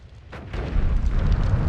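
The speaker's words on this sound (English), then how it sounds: "It's gonna be a very big explosion." A large bomb blast in the pixel-physics game Noita, with an abrupt onset swelling into a loud, sustained rumbling roar that carries on without any voices.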